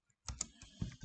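Close keyboard typing while editing a Docker command, a few quick key taps separated by brief pauses, no voices present.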